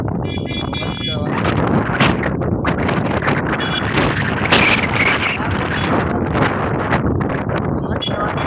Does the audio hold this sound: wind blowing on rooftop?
yes